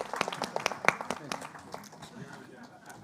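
A small audience at an area forum claps for a man, scattered and fairly quiet, the claps thinning out with murmured talk underneath.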